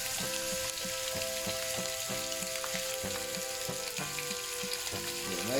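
Ground pork sizzles steadily in about two tablespoons of hot olive oil in a pan while being broken up, with continuous frying crackle and occasional scraping stir sounds close by.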